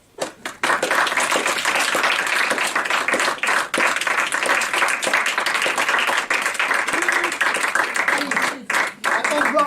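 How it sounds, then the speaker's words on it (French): A theater audience at an improv show applauds the actors and stage managers, sustained close clapping from many hands that swells and holds for most of the stretch, with voices mixed in. "je vous demande d'applaudir les comédiens et les directeurs de scène"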